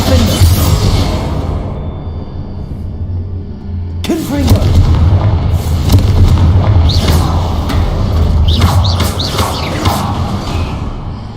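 Confringo fire-blast spells cast in Hogwarts Legacy combat land as a run of loud, booming bursts and crackling impacts. They come close together over a dense, continuous battle din.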